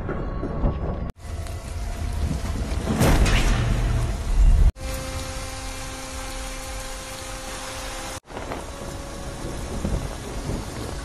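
Heavy rain falling steadily with loud rumbling thunder, a dense constant downpour broken by sharp cuts between segments, with thunder swelling strongly in the first half.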